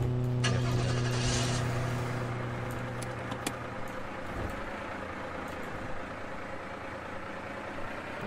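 Car engine in the video game Streamer Life Simulator, cranking and catching with a loud rumble, then settling into a steady idle with a few light clicks.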